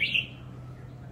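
A red-whiskered bulbul gives one brief, bright chirp at the very start, then only a faint low background hum remains for the rest of the moment.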